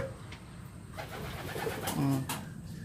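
Pigeons coo softly nearby, low throaty murmurs rising near the end over faint background noise.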